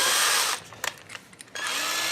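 Power drill running loud, cutting out for about a second with a few brief knocks, then whirring steadily again, alone with no talk.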